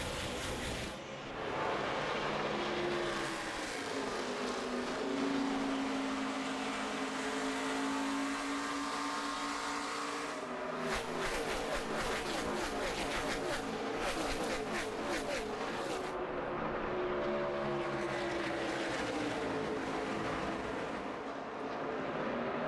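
NASCAR Nationwide Series race cars roaring as the field accelerates on a green-flag restart at Dover, a steady loud wall of engine noise with rising revs and passing cars throughout.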